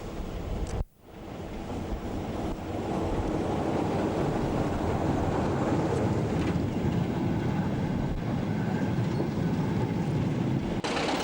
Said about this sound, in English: 26035 passes Greenhill Lower Junction on a train for Cadder Yard